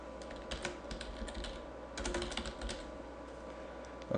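Keystrokes tapping on a computer keyboard while text is entered into Simple2D CAD/CAM software, a steady run of light clicks with a denser burst midway, close and fairly quiet.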